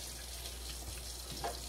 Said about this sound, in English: Make sure that water is running out cold.